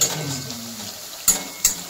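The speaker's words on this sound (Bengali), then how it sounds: "পেঁয়াজটা ভাজছি, যতক্ষণ না পেঁয়াজের রংটা হলুদ হচ্ছে, ঠিক সোনালি কালারের মতন হচ্ছে, ততক্ষণ পেঁয়াজটাকে এভাবে ভাজতে হবে।" Onions frying in a pan for a Hyderabadi green chicken dish, a soft steady sizzle with two sharp utensil scrapes near the end, close by.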